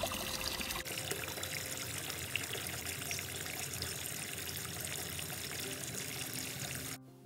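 Water pours steadily into a filter housing during a backwash, a continuous loud rushing flow that ends abruptly near the close.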